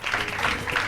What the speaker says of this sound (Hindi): तालियों के साथ माता को बुला लीजिए।